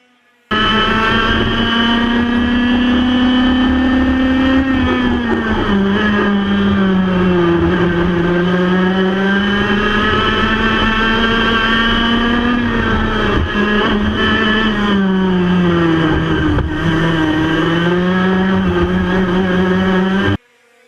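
Tony Kart racing kart at an Ipswich Kart Club race, its engine droning loud and steady for about twenty seconds with the pitch rising and dipping through the corners, no voices over it.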